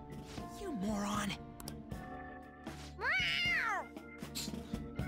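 A cat meows in the video game Persona 5, one drawn-out rising and falling cry near the middle, set amid game music and spoken dialogue.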